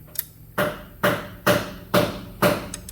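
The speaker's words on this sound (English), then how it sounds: "So right here we're going to take a little trusty box wrench" A box wrench tightens a bolt on a car alternator, giving a series of six sharp metallic clicks and knocks at a steady rhythm, close up and fairly loud with quiet gaps between them.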